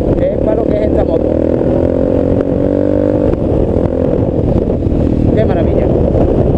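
A VOGE 300 Rally motorcycle rides along a dirt country track, its engine droning steadily close up with wind buffeting the microphone and a rider talking over it.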